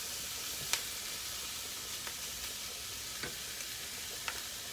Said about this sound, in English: I'm gonna stir my sausages around so they don't burn